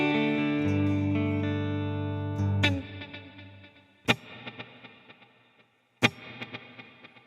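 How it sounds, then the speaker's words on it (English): A sustained guitar chord rings out through a long, lush cathedral reverb, followed by a few sharp plucked notes that echo and decay into space. "I have a cathedral reverb, which is a very nice, long, lush type reverb sound"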